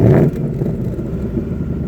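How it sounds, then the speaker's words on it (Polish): A Ford Mustang Bullitt 5.0 V8 rumbles loudly while driving, a deep steady engine drone heard from inside the car with a brief stronger surge at the start, no voices over it. "a sam delektowałem się dźwiękiem V8"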